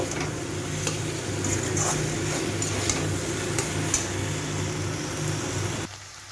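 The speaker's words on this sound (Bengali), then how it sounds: "ঢ্যাঁড়সগুলোকেও আমি একটু ভালো করে ভেজে নেব।" Okra frying in a pan for a tangy spiced bhindi dish, a steady close sizzle with light stirring and utensil clicks, continuous until it drops away near the end, no voices.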